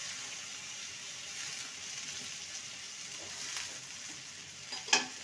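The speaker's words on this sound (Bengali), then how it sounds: "ভালো করে নেড়ে নেব।" Grated potato, rinsed and drained, being stirred in a pan with a steady soft sizzle and scraping, a sharper clink of the utensil near the end; no talking.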